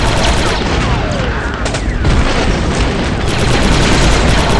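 An explosive charge detonating in the Star Wars: Republic Commando video game, loud booming blasts amid rapid gunfire-like crackle, dense and continuous throughout.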